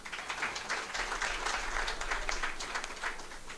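Audience at a strategic planning seminar breaks into sustained applause, a dense wash of clapping that holds steady throughout at moderate distance.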